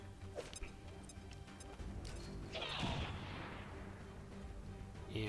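Grenade explosion in the strategy video game XCOM Long War 2: a broad burst of noise around the middle, set amid a steady, busy game soundscape with other sharp impacts and crashes.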